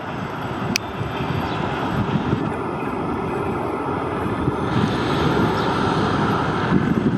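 The Jaffar Express passes near a tunnel at Dozan railway station in Balochistan, a steady, loud rumble and rattle that builds slightly over several seconds, with wind buffeting the microphone.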